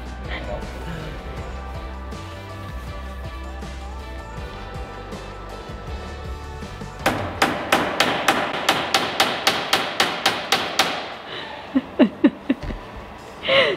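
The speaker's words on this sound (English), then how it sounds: "try to nail this in" A hammer drives a nail into a chair with a rapid run of about a dozen sharp, close strikes, then a few slower, louder blows, following a stretch of background noise.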